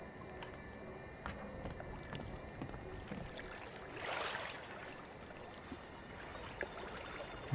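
A river in the Outlast 2 video game flows with a steady, low rushing and trickling wash. The sound swells briefly midway and stays unbroken, with no speech.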